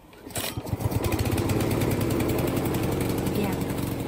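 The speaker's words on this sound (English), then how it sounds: "then pull the pull cord." Radio controlled grass cutter with a hand pull-start, its engine catching after a brief pull-cord rasp and then running as a loud, steady, buzzing drone that continues to the end.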